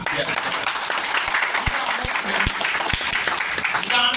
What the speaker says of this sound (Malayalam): ഈ ആസിമിന് വേണ്ടി നമ്മളൊന്ന് കൈയടിക്കണ്ടേ